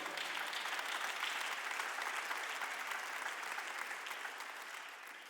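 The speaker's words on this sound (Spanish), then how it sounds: "denle un aplauso fuerte al Señor." A church congregation claps loudly together during a Spanish-language sermon, a thick, continuous burst of applause that stays strong for about five seconds before easing slightly at the end.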